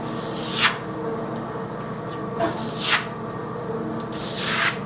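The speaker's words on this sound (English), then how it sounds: "it sounds like it's like it is when you trowel concrete and it's just right" A flat trowel scrapes and slides across wet clay plaster in several sweeping strokes, soft and close, without talking.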